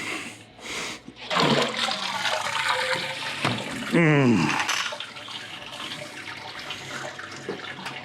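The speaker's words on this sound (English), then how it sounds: "Okay, we're gonna let that drip for a little while." Wort drains from a lifted grain basket during an all-grain Vienna lager brew, giving a continuous close watery trickle and splashing that is loudest early on and then settles into a softer, steady patter.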